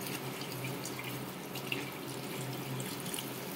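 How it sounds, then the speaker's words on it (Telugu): Water is poured into a pot of chicken curry mixed with ginger-garlic paste, giving a steady, close pouring and trickling sound that runs without a break and has no talk over it. "కలిపి తగినంత వాటర్ పోసుకొని"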